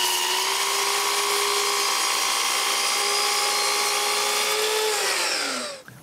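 A power tool recuts the end of a veneered wood piece taped with masking tape, a steady loud high-pitched whine running continuously before spinning down at the end.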